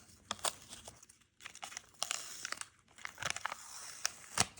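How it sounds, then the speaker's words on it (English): Double-sided mesh rug tape has its backing peeled away in a run of close crinkling, crackling tears, with short pauses between pulls and no talking. "all you have to do at that point is just peel it off, and you can see here you're left with the mesh tape"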